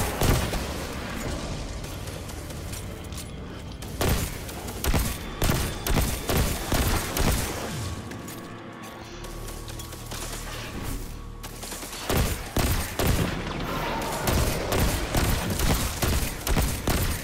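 Gunfire in the shooter game Destiny 2, with repeated loud bursts of rapid shots in clustered volleys separated by brief lulls, close and punchy, with no talking.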